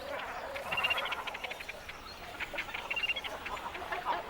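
Young cormorants in a nesting colony of dead trees by a reed-fringed lake give a dense, continuous chorus of raspy squawks and begging calls, mid-distance and steady.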